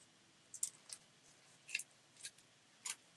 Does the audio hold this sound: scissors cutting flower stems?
yes